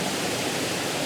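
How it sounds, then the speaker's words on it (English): A waterfall at Enders Falls with a stream flowing in front of it, a loud, dense, unbroken rush of falling water filling the whole short stretch. "I'm really also liking the water up front that kind of leads your eye up to the main waterfall up there"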